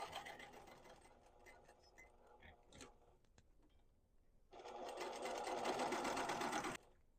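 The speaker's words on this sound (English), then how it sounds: "make sure your strap is completely out of the way so that you're not sewing over it" Sewing machine stitching around a reversible apron, running steadily at a moderate level, then surging into a louder, faster continuous whir for a couple of seconds before stopping abruptly.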